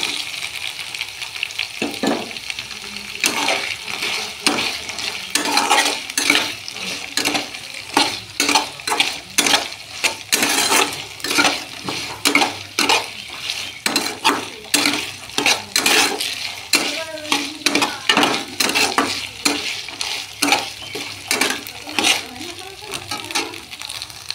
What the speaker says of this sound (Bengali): আলু কষানোর পর সয়াবিন দিয়ে দেবো।